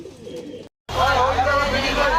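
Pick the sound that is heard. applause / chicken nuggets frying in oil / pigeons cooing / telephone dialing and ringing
pigeons cooing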